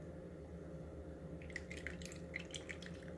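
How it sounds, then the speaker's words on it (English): Sesame seed milk strains through a strainer with faint dripping and trickling of liquid, soft and close over a low steady hum, with the drips picking up in the latter half. "I'm just going to strain it through here"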